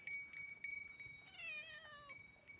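A cat meows softly several times in short calls, then lets out a longer, falling meow, faint and somewhat distant with no talking over it.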